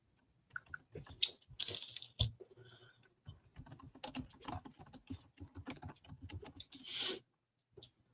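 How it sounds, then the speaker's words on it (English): Close, quiet typing on a computer keyboard comes in uneven bursts of key clicks with short pauses between, alone without any talk. "Let me get some typing done here."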